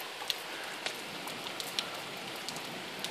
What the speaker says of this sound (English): The rain just started.